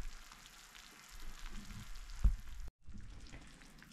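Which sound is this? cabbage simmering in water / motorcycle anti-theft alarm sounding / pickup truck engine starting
cabbage simmering in water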